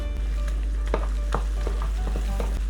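Steady, close sizzling of pepper paste frying in hot olive oil, with occasional scrapes and stirring clicks over a constant low hum.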